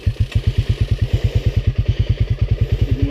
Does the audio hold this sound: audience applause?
no